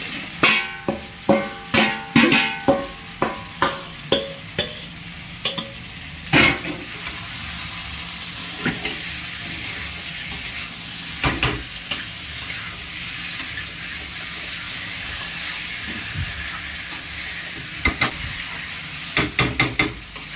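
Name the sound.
fried pointed gourd and potato stirred into sizzling masala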